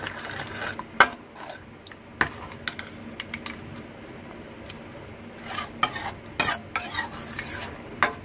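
Pineapple gojju, thickened with ground coconut, bubbling in a pot on high heat while a spoon stirs it, producing repeated sharp clinks and scrapes against the vessel over a soft, continuous simmer.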